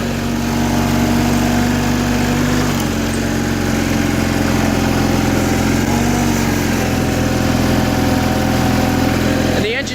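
The engine of a 1984 John Deere 316 lawn tractor runs close by in a loud, steady idle with a faint pitch dip now and then as it lugs down slightly, and a voice talks quietly beneath the drone.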